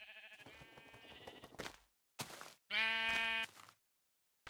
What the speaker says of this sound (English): I gotta shear this sheep before it gets murdered